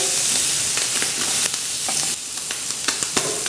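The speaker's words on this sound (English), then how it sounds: "it's time to cook your squid. So for the squid, frying pan, very hot." Loud, continuous sizzling of baby squid frying in a very hot pan with olive oil and salt, with crackling pops and hiss throughout and no voices.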